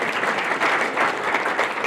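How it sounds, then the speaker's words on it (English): Audience applause greeting a guest speaker at a university entrepreneurship speaker series, steady dense clapping throughout at close range with no pauses or talk. "let's give Brad a round of applause."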